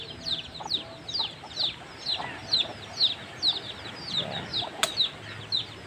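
Chickens on a small farm give a rapid series of short, high, repeated calls at a steady pace, fairly close and clear over a soft outdoor background, with no speech.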